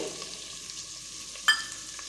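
Onion, garlic and curry leaves sauté in a pan, a faint low sizzle with a single sharp stirring scrape near the end.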